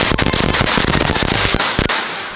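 Rapid burst of automatic gunfire blasting an unbreakable toy chest, a loud dense rattle of sharp cracks for about two seconds that cuts off abruptly.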